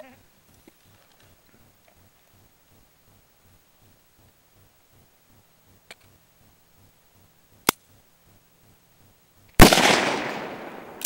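Two or three sharp gunshots ring out at a tree stump outdoors, spaced seconds apart, with the last one loud and close and followed by a long echoing decay over a quiet background.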